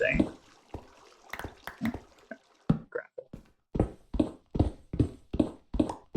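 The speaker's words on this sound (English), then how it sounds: "I do hear water flowing" Trickling water in the Minecraft video game runs under a steady series of sharp, evenly spaced clicks or steps, with a voice talking over the first few seconds.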